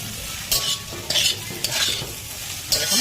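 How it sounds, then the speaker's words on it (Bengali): Onion being stir-fried with potatoes for vegetable chowmin: a steady low sizzle with a few sharp scraping stirs of the spatula in the pan, close and clear, no talking. "ভালো মতন একটু ভেজে নিতে হবে"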